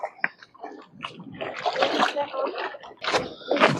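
Water splashing as someone wades across a shallow stream on the way to farm fields, in uneven bursts of sloshing at close range with brief quiet gaps.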